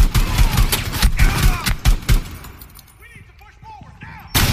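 Assault rifle fire in Rainbow Six Siege comes as loud, rapid bursts for the first two seconds, then fades to scattered game sounds and faint voices before a final loud shot.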